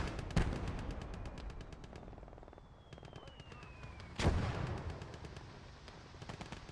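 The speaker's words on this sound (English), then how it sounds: "Do we have a mortar already firing? We do. Ooh, 2 mortars." Mortars fire in a WWII real-time strategy game: two heavy booms several seconds apart, with quieter clusters of rapid gunfire crackling between them.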